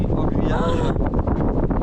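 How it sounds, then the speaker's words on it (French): Wind buffets a microphone in a steady roaring rush in Gamcheon Culture Village, with people talking over it close by. "Oh, il y a du vent,"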